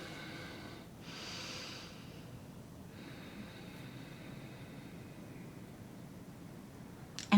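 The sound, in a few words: deep breathing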